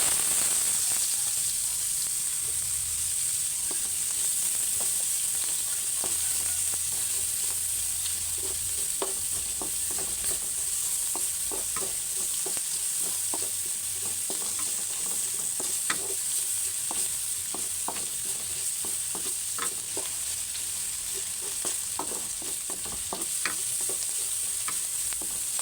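Ginger sautéing in its own rendered oil for Filipino laing: a constant bright sizzle with scattered crackles and scraping stirs from a utensil in the pan, close and steady throughout.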